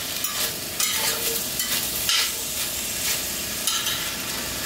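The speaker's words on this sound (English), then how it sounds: "we're just going to let that sort of saute in there for a couple minutes" String beans, sliced potato and salt sautéing in a pot, giving a steady bright sizzle with periodic stirring scrapes and tosses, close and continuous without talk.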